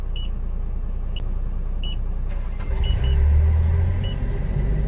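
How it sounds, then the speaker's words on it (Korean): The engine of a 2016 Mega Truck 5-ton refrigerated truck runs close by with a steady, deep rumble that swells louder partway through, while a few faint electronic beeps sound over it and no one speaks. "네, 지금 엔진, 엔진 돌아가고 있는 소리 들리시죠?"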